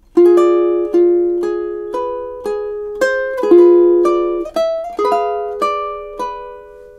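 A ukulele picks two measures of Ave Maria, a steady run of plucked notes and chord strums, each attack ringing and decaying, close and clean with no talk.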